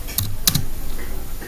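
Several quick keystrokes on a computer keyboard while HTML code is typed, a short cluster of crisp clicks near the start followed by quiet room tone.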